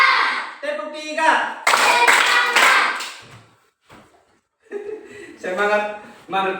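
Children in a classroom clap out a three-beat pattern in sharp bursts, with young voices chanting and calling out around the claps.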